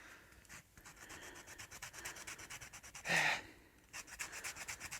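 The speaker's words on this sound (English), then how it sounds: "I'm just going to grate some orange zest over the top." Orange zest grated over a cup of dairy-free cinnamon and orange hot chocolate, making steady, rhythmic close-up rasping strokes with one louder scrape midway and no talking.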